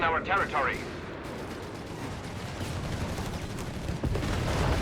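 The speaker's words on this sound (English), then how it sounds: "And there you go, anti-tank here firing away." An anti-tank gun fires repeatedly amid a Company of Heroes 3 battle, sharp reports punching through a dense, continuous wash of gunfire and explosions, with no clear pauses across the clip.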